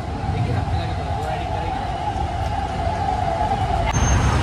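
A vehicle's large siren horn sounds as a steady, sustained tone. It is heard over road noise while people talk nearby.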